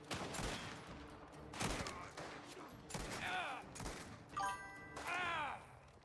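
Gunfire in the video game Mafia: The Old Country, several separate shots and short bursts spread across the moment, fairly faint and mixed with game sounds.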